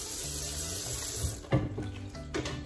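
Tap water running into a measuring cup while measuring water for cooking rice, a steady close splashing stream that breaks into uneven gurgles and sloshes toward the end as the cup fills.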